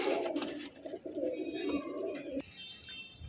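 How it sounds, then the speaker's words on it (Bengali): Three silver bagha pigeons, two big hens and a cock, coo close by in soft repeated rolling calls, with brief pauses between phrases and no speech. "তিনটেই সিলভার বাঘা কবুতর"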